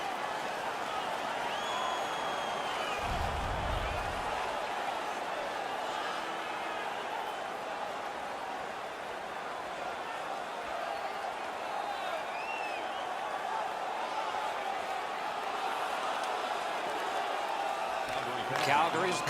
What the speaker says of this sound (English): They're making all kinds of noise.